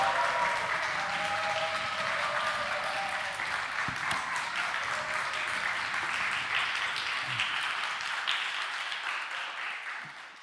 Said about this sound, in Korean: 우리 선교사님 나오실 때 우리 같이 한번 큰 박수 부탁드리겠습니다